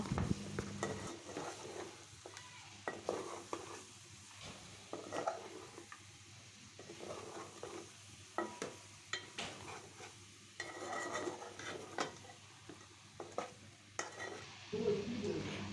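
Beef being stirred in a cooking pot with chili powder, as for a Bangladeshi beef and potato curry, giving a steady scraping and sizzling frying sound with intermittent spoon clinks and no talk throughout.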